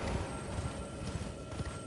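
Muffled hoofbeats of a horse in the video game Elden Ring thud in a steady galloping rhythm beneath a constant airy hiss, fairly quiet.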